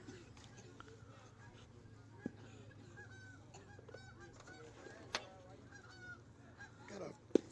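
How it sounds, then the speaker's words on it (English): A flock of geese honks repeatedly as it flies over a youth baseball game in Florida or Georgia, the calls scattered and moderately distant, with some murmured voices and a few sharp knocks in the background. "Got a flock of geese flying overhead here."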